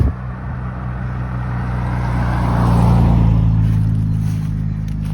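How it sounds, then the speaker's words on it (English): A Jaguar E-Type drives past at an outdoor car show: a steady, loud low engine rumble that swells to a peak midway as it nears, then eases off as it moves away. No one speaks. "Some nice car show going on today. So there's a nice E-Type."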